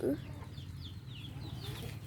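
Chickens and ducks clucking softly near and far, with brief call fragments over a steady low background hum and some faint voice.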